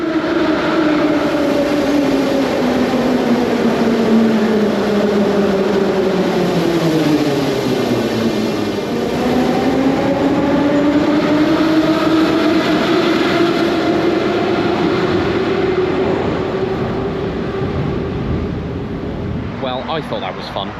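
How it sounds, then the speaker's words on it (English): A Tbilisi metro train rumbles along its line, loud and close, its pitch sliding down as it slows and then climbing again as it speeds up, with a sustained rushing roar throughout. "I basically just took the metro and took it back."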